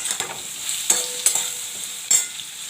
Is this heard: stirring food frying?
yes